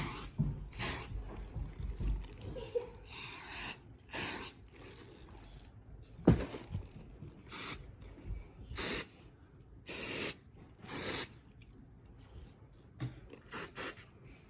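Short bursts of aerosol spray apply a protective coating to a repaired Louis Vuitton Noé bag, about a dozen sharp hissing puffs of varying length separated by quiet pauses, close and moderately loud.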